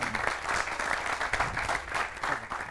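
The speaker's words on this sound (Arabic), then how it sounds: "تصفيق لهم" A studio audience applauds on a stage show, a steady dense wash of clapping hands that holds evenly throughout without a break.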